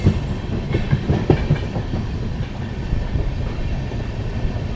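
The 14720 Amritsar-Bikaner Superfast Express rumbles along at speed, wheels clacking over rail joints in a steady, loud, continuous roar heard from inside the train.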